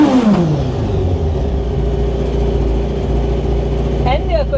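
Suzuki Swift fitted with a naturally aspirated motorcycle engine, revving loudly and steadily, its pitch dropping at the start and then holding a sustained high-rev drone, with a brief upward sweep near the end.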